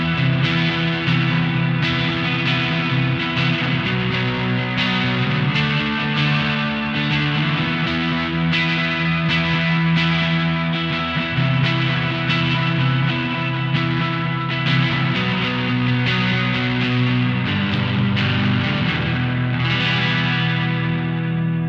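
Electric guitar played through an Analog Alien Rumble Seat pedal, with reverb and delay feeding overdrive, ringing out in distorted, washy chords and sustained notes that blur together for over twenty seconds.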